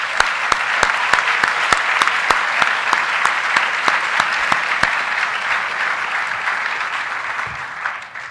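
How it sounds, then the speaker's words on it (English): A crowd at an EcoCAR 3 university vehicle competition awards ceremony gives sustained, loud applause for the sixteen teams. One nearby pair of hands claps sharply and regularly through the first half, then fades out while the broad crowd keeps clapping. "Let's give them a big round of applause."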